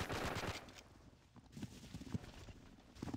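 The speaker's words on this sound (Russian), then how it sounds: "Кто стреляет?" Gunfire in Forgotten Hope 2, a World War II battle game on the Elsenborn Ridge map, heard as a rapid rattle of shots at moderate distance at the start and again near the end, with scattered lighter shots and background battle noise between.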